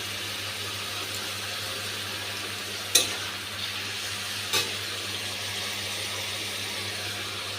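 A paste of ginger, garlic and green chilli fries for chicken curry with a soft, steady sizzle under a low hum. Two brief clicks of a utensil against the pot stand out, and no one speaks.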